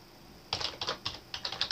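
Quick bursts of keystrokes on a computer keyboard, close and fairly quiet, in short irregular clusters after a brief silence.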